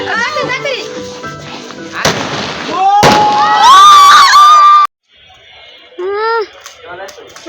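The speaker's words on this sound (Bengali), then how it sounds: "এখন আমাদের আতশবাজি" Fireworks at a New Year party burst in sharp, loud bangs amid shrieking, cheering children and a lively crowd, with a short lull before more shouting.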